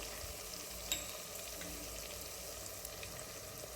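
Egg biryani masala sautéing in a pan with spice powders such as coriander, chilli powder and garam masala, giving a soft, steady sizzle and frying hiss throughout with one brief scrape of stirring.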